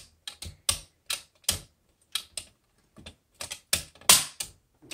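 A 1963 Olympia SM7 manual typewriter being handled, giving sharp, irregular mechanical clicks and clacks in short clusters, close and crisp against silence.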